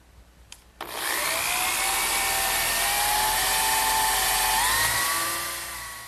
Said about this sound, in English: I'm going to drill a 3/8 inch diameter, but not quite all the way through, for some dowels